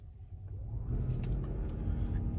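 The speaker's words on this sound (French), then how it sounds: "vous allez entendre le moteur thermique" The small rotary range-extender engine of a Mazda MX-30 R-EV starts up while charging and runs steadily, a low droning rumble that builds in the first second and then holds even and fairly loud.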